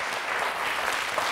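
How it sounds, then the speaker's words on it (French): Studio audience applauding on a French television quiz show, a steady dense wash of clapping that holds evenly throughout the short stretch, close and full, with no voices over it. "Tout le monde vous applaudit."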